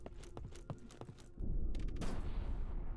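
Bombs going off in the trench warfare survival horror game Conscript: a run of sharp, close cracks gives way to a loud, sustained rumbling blast that fills the rest of the moment.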